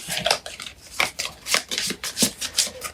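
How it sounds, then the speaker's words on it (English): A deck of cards being shuffled during setup for a tabletop board game, a run of crisp riffling bursts repeating several times in quick rhythm, close and fairly loud, with no talking. "We're going to take the remainder of our deck, shuffle it up,"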